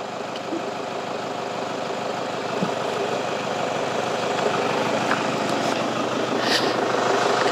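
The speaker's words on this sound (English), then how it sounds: "Let's let the engine idle for a little bit." A vehicle engine idles steadily with a low, even rumble that holds throughout and rises slightly toward the end, with no talk over it.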